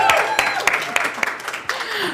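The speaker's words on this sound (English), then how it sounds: "give a warm round of applause to the final person joining us" An audience at a tech summit claps for an arriving speaker, a brief burst of applause with a few sharp individual claps and a voice talking over it.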